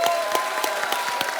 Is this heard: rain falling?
no